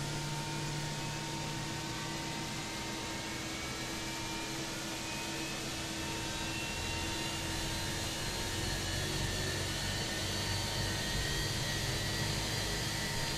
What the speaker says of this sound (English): Waiting your confirmation for a good engine start.